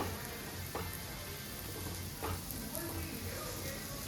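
A pizza paratha roasts on a pan with a soft, steady sizzle and light crackle, close and fairly quiet, with brief scraping touches.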